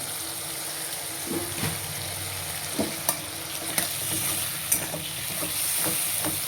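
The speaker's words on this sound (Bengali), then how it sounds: "আমি এখন ধীরে ধীরে এটাকে আমি ফ্রাই করব, মশলাটাকে" Spice paste of onion, garlic, ginger, tomato and turmeric fries in a pan with a steady, close sizzle, broken by scraping stirs and soft taps of a spoon against the pan.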